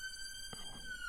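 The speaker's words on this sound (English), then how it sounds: "The siren is so loud around here." A loud, steady siren wails without pause, its tone holding level over a faint background rumble.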